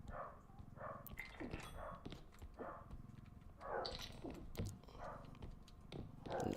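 Dogs bark and growl in a game setting, several rhythmic bursts repeating over a busy background of game sounds and music, fairly close and loud.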